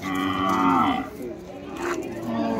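Cattle at the Kodada weekly cattle market: a loud, close, drawn-out moo followed by a second, shorter call over low background murmur.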